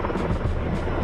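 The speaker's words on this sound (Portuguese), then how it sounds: "Junto com eles vieram os helicópteros com cestos de armazenamento de água." Firefighting helicopters carrying water buckets, a steady loud rotor roar and engine drone filling the air without a break, heard up close with no voices.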